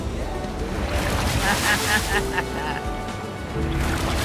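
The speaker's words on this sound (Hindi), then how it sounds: "ओके, ये आई बड़ी लहर।" A big ocean wave surges onto a slippery rocky shore near an island, a broad rushing roar swelling over steady wind buffeting, with a voice talking over it.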